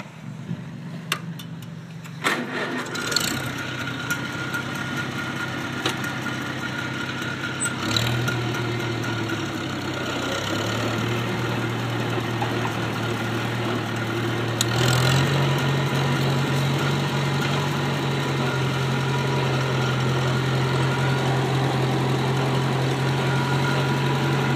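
A Farmall Cub tractor engine cranks and catches, then settles into a steady low idle with a droning hum and a slight shift in pitch midway, close and continuous with no voices.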